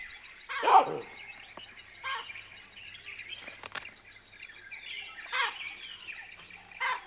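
Repeated harsh barking alarm calls from a baboon lookout in the Botswana grasslands, a few seconds apart, echo from a moderate distance over soft outdoor ambience, the first bark loudest.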